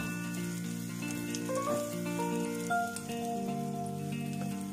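Garlic and guajillo chiles sizzle while frying in a pan, giving a steady close crackle that sits under background music.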